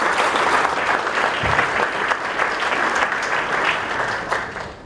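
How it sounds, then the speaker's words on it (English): Dense, sustained applause from a conference audience welcoming a speaker at a leakage industry conference session, loud and even throughout with no talking over it. "so give him a big round of applause."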